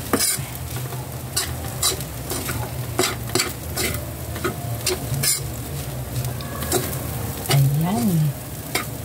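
Leftover fried rice stirred in a pan with a splash of soy sauce, a loud close sizzle broken by repeated sharp scraping and clanking strokes of the utensil, with a brief squeaky tone toward the end.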